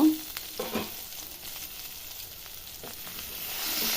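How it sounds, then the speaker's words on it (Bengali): Flat beans (sheem) fry in a pan with a soft, steady sizzle, broken by a few clinks and scrapes of a utensil near the start, and the hiss grows stronger toward the end. "দেখুন ছিমটা অনেকটা ভাজা ভাজা হয়ে এসছে।"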